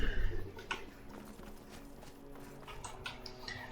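Horse hooves clip-clop at a steady walking pace in Skyrim Special Edition, over a low background hum, with a few sharper hoof strikes standing out.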